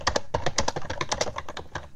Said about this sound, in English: I'm really slamming that keyboard